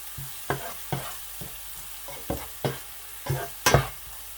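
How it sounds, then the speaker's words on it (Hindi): Cumin seeds frying in hot oil for a masala chicken boti dish, with a series of sharp scraping stir strokes about every half second over a steady low sizzle, the last strokes the loudest and brightest; no talking. "ज़ीरा भी जो है वो भी तेल में थोड़ा सा पक जाएगा।"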